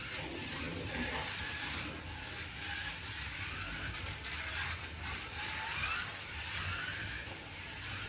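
A slot car fitted with a bigger motor whirs around its track, a thin continuous whine that swells and fades faintly as it laps.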